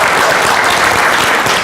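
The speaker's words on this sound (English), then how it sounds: "Applaud her again, please" Dense, steady applause from a seminar audience fills the whole stretch, loud and close with no pauses, a broad wash of many hands clapping together.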